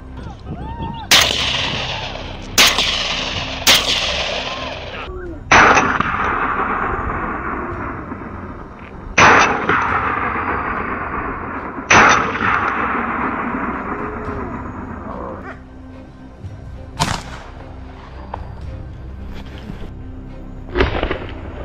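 Gunshots ring out during a wild boar hunt: about eight loud, sharp reports spaced a second or more apart, each followed by a long rolling echo, with no talk.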